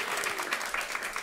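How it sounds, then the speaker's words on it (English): Brief, faint applause from an audience at a talk on agrivoltaic solutions for farmers and food systems, a soft patter of many hands heard at a distance. "Round of applause again."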